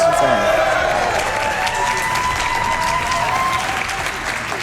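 Loud, dense crowd applause with cheering, a sustained wash of clapping and voices throughout, from a live speedrunning event audience.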